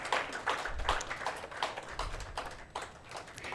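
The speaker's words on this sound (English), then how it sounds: "A huge round of applause." An audience at an indoor evening talk claps for a guest coming to the stage, with soft, fairly distant, uneven bursts of clapping.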